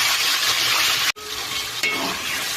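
A paste of onion, ginger and garlic frying in oil in a pan for a fish curry, a loud, continuous close sizzle with brief stirring scrapes and no talking.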